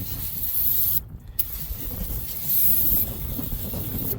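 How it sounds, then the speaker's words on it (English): Loud, steady hiss of brake cleaner spray up close on a tractor, in two or three long bursts separated by short pauses. "We're gonna hit this with a little bit of brake clean."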